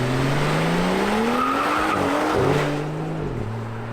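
Rear tyres of a high-horsepower car breaking loose in first gear during an acceleration run: loud, continuous tyre squeal over a rising engine note that drops in pitch near the end, close and sustained for about four seconds.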